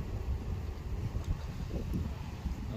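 Wind gusts outdoors at a native honeybee apiary, a steady low rumble of buffeting against the microphone that continues throughout, faint and without any voices.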